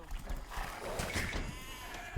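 Sheep bleating in a medieval real-time strategy game during early scouting: a short, wavering bleat over a busy background of game sounds and faint clip-clop, with no talk.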